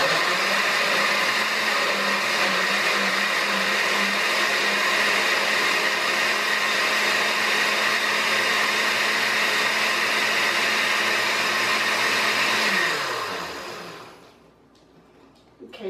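A kitchen blender liquefies chiles, tomato and chile water for a shrimp chile sauce, running with a loud steady whir for about thirteen seconds before winding down and stopping.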